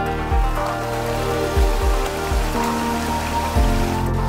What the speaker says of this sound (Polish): No, a to już mamy strumyk.